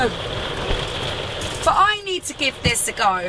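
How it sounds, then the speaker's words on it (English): Steady patter of rain on a surface fills the background, with a person speaking briefly over it near the end. "Sorry about the rain noise."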